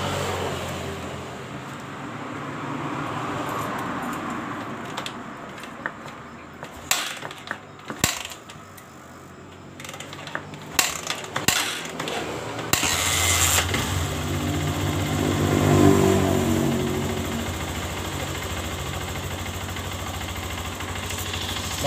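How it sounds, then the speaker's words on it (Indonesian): A Honda CRF150 dirt bike engine, freshly rebuilt with an oversize block and new valves, cranks and sputters through clattery knocks, then catches and settles into a steady, rough idle that runs on alone. "Motor ini hidup dengan stabil setelah kita pemasangan atau penyekiran dari klep dan oversize daerah bloknya."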